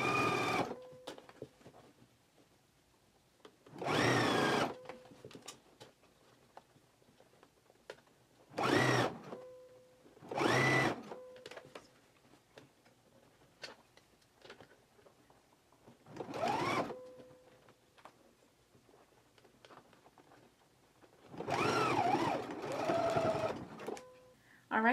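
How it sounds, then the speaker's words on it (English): Sewing machine stitching down the middle of elastic on garment sleeves, several bursts of fast whirring stitching separated by pauses, with someone talking between runs. "now I'm gonna go to the machine and I'm just gonna stitch right down the middle of the elastic"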